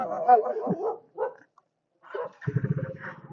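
A dog barks in short bursts, the last burst a quick run of rapid barks close by, with a voice talking early on.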